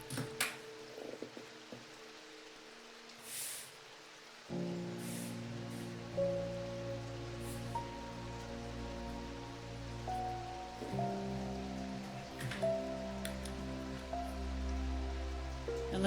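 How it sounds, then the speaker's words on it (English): Steady rain patters on a surface indoors at an antique shop. A quiet start gives way to a continuous wash of droplets with a low hum underneath, no voices. "I think the rain sounds would even cover it up."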